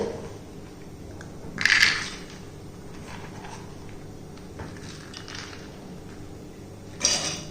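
Soaked chickpeas tipped from a measuring cup into a kitchen vessel, a brief rattling patter of damp legumes landing near the start, then quiet, with another short clatter at the end.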